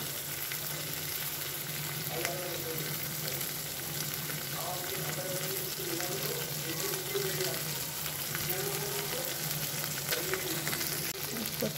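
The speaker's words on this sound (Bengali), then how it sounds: "এরপর মশলা অ্যাড করছি গরম মশলা" Garam masala and spices sizzle steadily in a pan while sautéing for an egg bhapa dish, a constant frying hiss with a voice talking over it.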